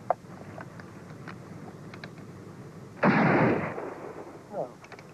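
Artillery shelling in a war film: a single heavy, close blast bursts out of a low background rumble, then rolls off and fades over about a second and a half.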